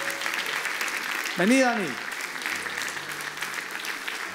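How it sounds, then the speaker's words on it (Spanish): A church congregation applauds at a sermon service, welcoming someone forward: steady sustained clapping from the room throughout, with a pastor's voice speaking briefly over it. "Adelante, por favor, un aplauso."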